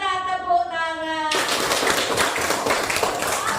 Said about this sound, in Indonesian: Bos berkata tepuk tangan